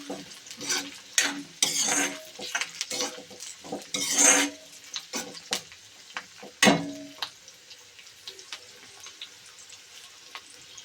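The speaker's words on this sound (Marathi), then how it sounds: "जिरं थोडंसं लालसर झालं, टाकूया कांदा छान परतून घ्यायचा." Onion and cumin stir-fried in an iron kadhai over a charcoal stove: a soft sizzle under irregular, clattering scrapes and stirs of a spoon against the iron pan, some strokes loud and close, with quieter pauses between.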